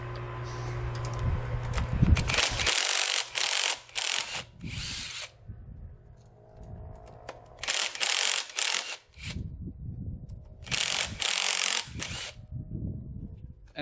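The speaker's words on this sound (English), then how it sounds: "Alright, taking off the cam cover." A ratchet wrench loosens the cam cover bolts on a Honda 400ex engine. Several separate spells of fast, close clicking ratcheting are broken by quiet pauses and softer handling noises.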